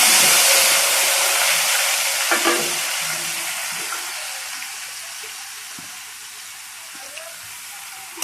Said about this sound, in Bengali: কপিগুলো আমি এখন লাল লাল করে ভেজে দিয়ে তারপর মশলা দেবো